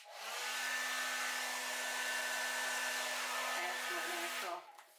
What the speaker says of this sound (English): Let's see if I can get it with the blow dryer here.